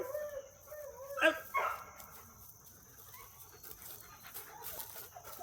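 A female dog whines in short high yelps over steady, soft panting, close by, during a supervised play session with other dogs.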